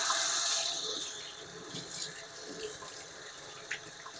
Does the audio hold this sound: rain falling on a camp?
no